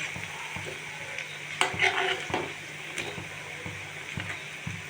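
Fritters of kagbot greens and coriander leaves frying in oil give off a steady crackling sizzle, with clinks of a utensil being stirred or scraped in the pan.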